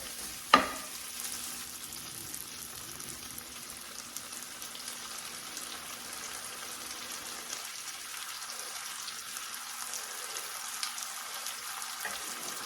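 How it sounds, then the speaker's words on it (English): Orange chicken simmering in sauce in a pan on lower heat gives a soft, even bubbling hiss throughout, after a single sharp knock at the start. "Let that simmer for a little bit, for a minute or 2 on a lower heat"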